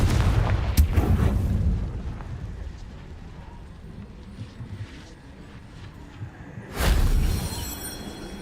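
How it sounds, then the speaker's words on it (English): Confringo spell explosion in the video game Hogwarts Legacy: a sharp, loud blast near the start, a rumbling tail, then a second heavy burst near the end. "Confringo!"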